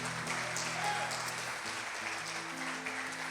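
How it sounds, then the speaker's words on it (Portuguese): Congregation applauds during a live church service, a continuous wash of clapping under a sustained music bed with held organ-like tones. "Você pode aplaudir aquele que vive e que reina."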